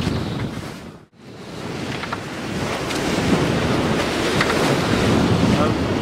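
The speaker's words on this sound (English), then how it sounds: "Non-stop gale." Gale-force wind roars and waves surge around a sailboat on shallow water, a steady loud rush of wind buffeting the microphone over breaking surf, with a brief drop near the start before the noise builds again.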